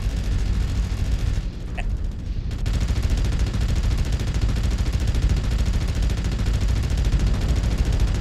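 Sustained heavy weapons fire from battling mechs in MechWarrior Online, a dense, loud continuous barrage of machine gun and autocannon shots with a brief dip early on before the firing swells again.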